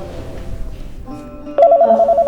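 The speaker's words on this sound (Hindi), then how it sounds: "देखो किसका फोन है।" A telephone in a home drawing room rings with a bright, repeating electronic tone that starts abruptly after a short stretch of quieter room sound.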